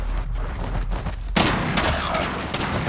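A semi-automatic marksman rifle fires in a video game, three or four sharp, loud cracks spaced a fraction of a second apart over a busy low background rumble.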